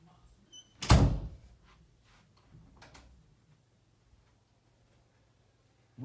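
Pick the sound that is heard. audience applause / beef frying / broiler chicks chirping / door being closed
door being closed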